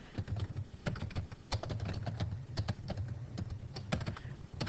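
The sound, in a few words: typing on a computer keyboard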